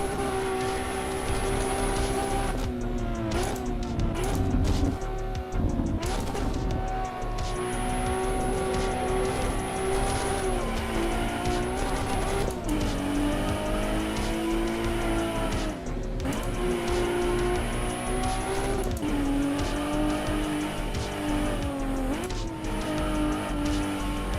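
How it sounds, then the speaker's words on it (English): A race car in the Assetto Corsa EVO video game with a loud, continuous engine whine that climbs and drops through gear changes. Brief tire and shift sounds break in across a sustained run with no talk. "Let's go race some more."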